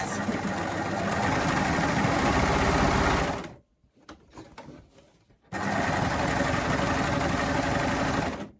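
A coverstitch sewing machine stitches plaid fabric in two loud, steady runs, separated by a short quiet pause for a pivot, with no talking.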